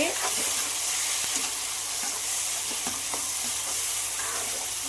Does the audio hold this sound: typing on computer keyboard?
no